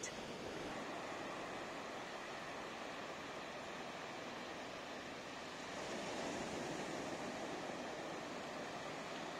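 Surf rolling onto a beach where flag warnings mark swimming hazards, a steady broadband wash of breaking waves that swells slightly louder near the end, with no voices.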